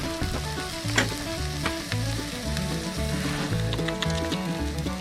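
Sausages sizzle and fry in a pan at an outdoor camp breakfast, a steady close crackle with occasional sharper pops and scraping stirs, no voices.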